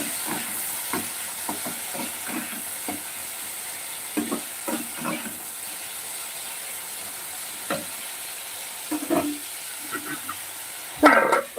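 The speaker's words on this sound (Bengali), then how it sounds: "কি রান্না হচ্ছে রান্না হচ্ছে রান্না না অ্যাকচুয়ালি টিফিন মতো হচ্ছে সুজির" Semolina (suji) cooks in a frying pan with a low hiss, broken by repeated scraping clicks of a spoon stirring at an uneven pace, plus a louder clatter near the end.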